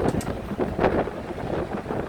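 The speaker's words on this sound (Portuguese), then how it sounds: "O vento é bem forte, meu cabelo fica todo despenteado." Strong wind buffets the microphone on the open upper deck of a tour bus at the Itaipu dam in Foz do Iguaçu, a steady loud rushing roar with gusty swells and no speech.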